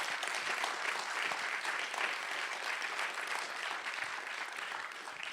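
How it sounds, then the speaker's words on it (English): Conference audience at a general assembly applauding the hosts, a broad continuous clapping of a large room heard at moderate distance and fairly quiet, steady throughout with no talking. "could you give them all a round of applause?"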